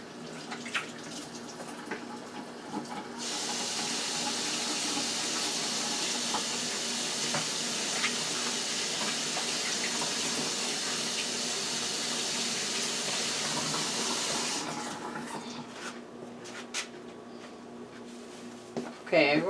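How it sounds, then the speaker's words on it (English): Tap water runs steadily into a sink as hands are washed, a broad close hiss lasting most of the time before stopping, with a voice speaking faintly beneath. "I'm gonna wash my hand"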